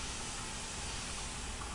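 Steady, even hiss of an airbrush spraying paint at about 25 psi close to the surface, continuous and moderately quiet with no talk.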